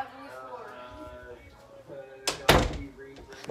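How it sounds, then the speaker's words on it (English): A door is pushed shut with a solid double thud after a stretch of nearby talking. "Oh, let me shut your door."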